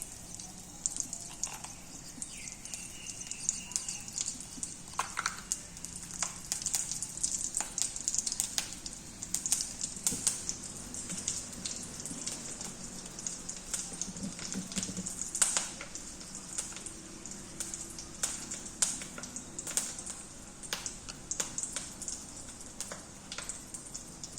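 Stuffed capsicums filled with chilli spice sizzle and crackle steadily in hot oil, a dense hiss with scattered pops, close and moderately loud throughout with no one speaking.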